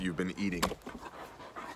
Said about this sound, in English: Look, a giant puppy dog.